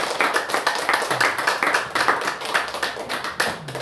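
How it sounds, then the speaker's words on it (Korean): A church congregation at a Sunday afternoon service claps together in a fast, steady rhythm, close and lively, with no talking over it. "우리 하나님 앞에 영광의 박수 올려드리겠습니다"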